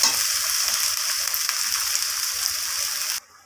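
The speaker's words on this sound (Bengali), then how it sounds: "ভাতটাকে দিয়ে এইভাবে হালকা হাতে নাড়াচাড়া করে নিতে হবে" Rice for vegetable fried rice tossed gently in a hot pan, giving a loud, steady sizzling hiss that runs evenly for about three seconds and then cuts off abruptly.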